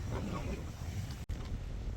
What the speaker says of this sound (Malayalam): നല്ല കാറ്റും പരിപാടിയൊക്കെ ആയിട്ട് അങ്ങനെ പോകുന്നുണ്ട്